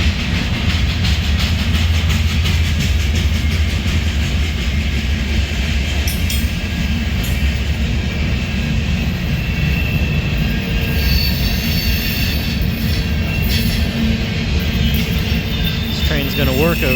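A long freight train carrying empty tank cars and cement hoppers, pulled by an ex-Missouri Pacific SD40-2 with an SD70MAC, rolls past at St. Denis with steady rumbling, wheel clatter and high metallic squeal, while someone talks over it.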